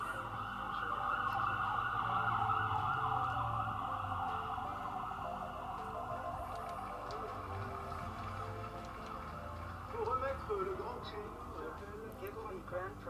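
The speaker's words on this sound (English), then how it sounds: "Shut up, sirens." An emergency vehicle siren wails steadily at mid distance, held under continuous background music and a voice talking over it.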